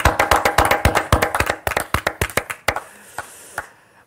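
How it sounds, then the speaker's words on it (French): A few people clap together after a talk on insect abilities, quick close hand claps at first, then thinning out to scattered single claps and a quiet room by the end. "ça fait bizarre quand on applaudit qu'on est trois"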